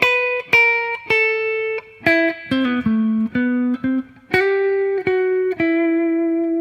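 A clean electric guitar lick of distinct plucked notes, some sliding between pitches, with short stutter notes and sustained tones in a moderate rhythm.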